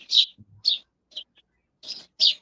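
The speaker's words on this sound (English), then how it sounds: "The birds sound nice today." Birds call outdoors on a dark, rainy day, a handful of short high chirps spaced irregularly with quiet gaps between them, faint and somewhat distant.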